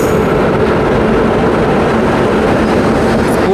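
Howrah–Mumbai Mail express train 12810 hauled by a Pune-based WFP7 electric locomotive 39513, running late; a loud, steady rumble and clatter of rolling coaches, continuous throughout with no voices.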